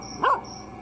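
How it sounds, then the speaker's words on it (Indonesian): A single short dog yip or bark sounds briefly at middle distance over a faint steady hum. "Oh, dia bawa guguk guys."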